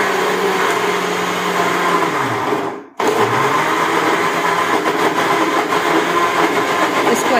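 A mixer grinder whirs loudly and continuously as it grinds grated apple for mixed fruit jam, cutting out briefly before restarting its harsh, high-pitched grinding hum.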